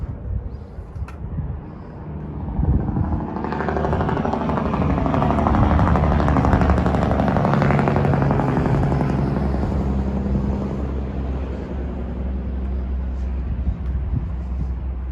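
A small electric mine vehicle with forward, neutral and reverse controls, like a little forklift, runs underground in the Queen Mine, its steady motor hum and rumble swelling loud around the third second and holding on without speech.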